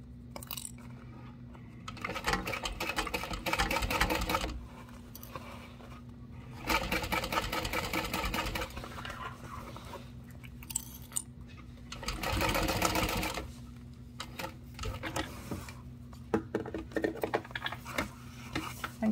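A sewing machine bastes a piece onto a handmade Lindsling bag in three separate bursts of quick, steady stitching, with quiet pauses in between. The stitching is close and moderately loud, and no one speaks.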